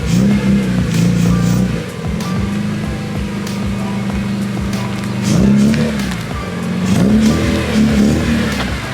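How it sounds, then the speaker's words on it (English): BMW E30 with a swapped S54 engine idling while warming up, a loud, close, steady idle hum with small revs rising and falling in pitch several times. "Let it sit here, warm up for a little bit, get some temp in the oil"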